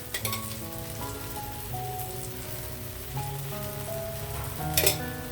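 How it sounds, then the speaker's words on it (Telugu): Ragi rava dosa batter frying on a hot pan as oil is drizzled around and over it, a constant close sizzle with brief spatters and light stirring sounds, no talking. "ఓకే ఇప్పుడు మళ్ళీ దీని చుట్టూ ఆయిల్ వేసుకుందాం డ్రాప్స్ ఇలా ఈ మధ్య మధ్యలో కూడా ఆయిల్ వేయాలి"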